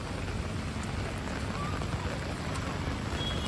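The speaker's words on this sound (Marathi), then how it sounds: "आणि पाऊस खूप आहे." Heavy rain pouring onto a flooded playground in front of a building in Nalasopara, a dense, steady hiss of drops splashing on water, continuous and fairly close with no talk.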